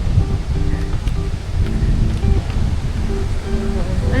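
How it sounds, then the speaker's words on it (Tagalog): Strong wind buffets the microphone on a lakeside boardwalk at Clear Lake, Riding Mountain National Park, a loud continuous low roar with gusts, while people talk faintly beneath it. "It's super windy."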